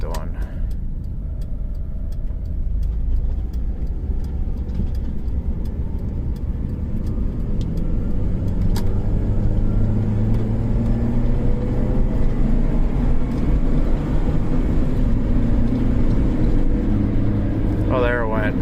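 A 2003 Honda Element with the 2.4L engine and AWD, fault code P2646 keeping VTEC from engaging, revs steadily under load, a continuous close engine drone with a brief rise in pitch, over faint background noise.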